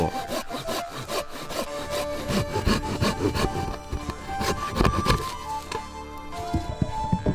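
A Japanese hand saw rasps through a pine log in a steady back-and-forth rhythm of quick strokes, close and clear with no talking.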